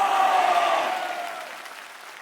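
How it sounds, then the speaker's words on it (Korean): Church congregation applauding during a Sunday worship service, a broad wash of clapping from a large crowd that is loudest at the start and slowly fades over a couple of seconds. "가장 뜨거운 박수로 즐거운 마음으로 영광의 박수 올려드립시다."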